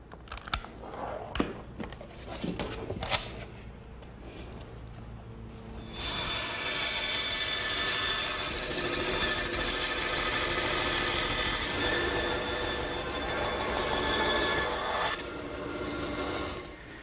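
A bandsaw slices through wooden boat pieces tacked together with hot glue, following a few handling knocks, then a loud, steady rasping cut that runs for about nine seconds before easing off.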